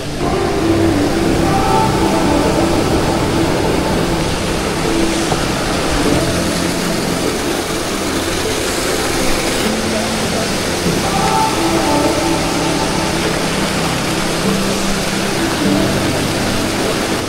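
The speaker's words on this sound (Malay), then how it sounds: "Wow, cantiknya waterfall." Roaring waterfall at a scenic natural site, a steady, dense rush of falling water heard close and loud throughout, with no breaks.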